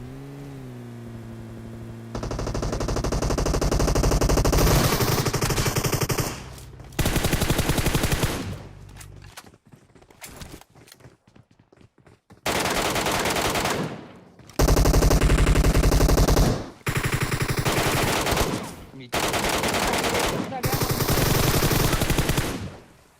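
Heavy automatic gunfire rattles through a close-range PUBG Mobile gunfight with MK14 and Groza rifles, loud sustained bursts broken by short pauses and a quieter gap midway, no talking.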